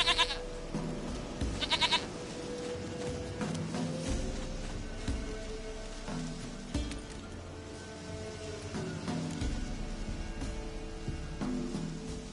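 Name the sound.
goat bleating in The Witcher video game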